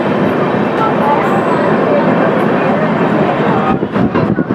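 Haridwar Amritsar Jan Shatabdi train pulling out of Dhandari Kalan station onto a loop line, a loud continuous rumble and rattle heard from inside the moving train, with a voice talking over it.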